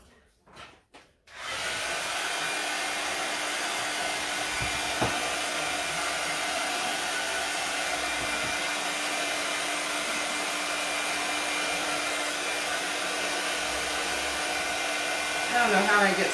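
A hair dryer runs steadily from just after the start to the end, a continuous loud blowing whir with a few soft handling bumps before it switches on.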